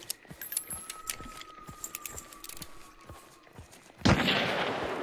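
Gunfire in the game Hunt: Showdown: a string of sharp, evenly spaced shots crackling at a moderate distance, followed by a sudden loud, close blast that settles into a sustained roar.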